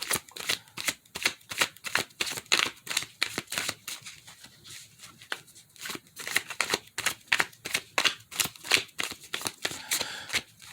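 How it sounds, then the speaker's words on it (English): Tarot cards being shuffled by hand for a card reading, a steady run of quick crisp riffling flutters repeating in bursts, close and clear with no talking. "Let's throw some cards."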